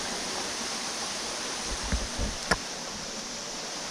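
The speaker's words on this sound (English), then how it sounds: "There's some beautiful waterfalls there." Waterfalls at a slate mine in North Wales, a constant broad rushing wash of falling water with a few faint knocks and scuffs near the middle.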